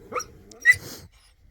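A dog gives a short bark and a whimpering yelp close by, two brief sounds in quick succession followed by quiet.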